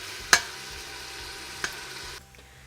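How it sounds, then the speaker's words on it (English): Bacon sizzling in a frying pan with a steady hiss, punctuated by two sharp clatters as the strips are tossed, before the sizzle drops away near the end. "You want to watch that bacon, toss it around until it's nice and cooked and crispy"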